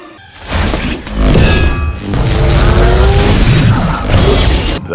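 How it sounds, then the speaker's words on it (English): Lightning strike in a dramatic animated scene: a loud, sustained crackling boom with a sharp onset and rumbling, broadband roar that holds for several seconds before cutting off abruptly. "That's the sound of lightning."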